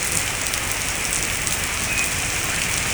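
Heavy evening rain in Shailkupa pours down steadily. The dense, loud hiss of drops on surfaces continues without a break, and no voices are heard.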